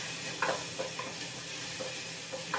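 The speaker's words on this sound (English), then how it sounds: "Just gonna stir that a little bit, let the garlic cook up a little bit." Garlic cooks in a pot as the base for Haitian rice, stirred with a utensil: a steady soft sizzle runs throughout, broken by a few light scraping strokes, close up and with no talking.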